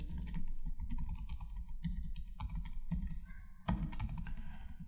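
Fast typing on a computer keyboard while setting up a Gulp JavaScript project, with irregular bursts of close, crisp key clicks and short pauses between words.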